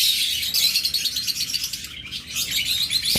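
Lutino opaline pet birds chirp continuously at close range, a dense, busy stream of tweets and calls with no talking.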